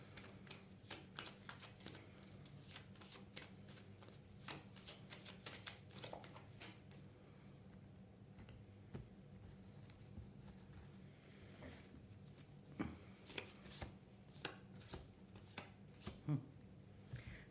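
Cards are shuffled quietly at close range in a hushed room, with soft riffling and flicking bursts that come in short clusters and grow slightly louder toward the end.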